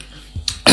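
A single short cough, close and sharp, with a brief throaty lead-in and a louder burst at the end.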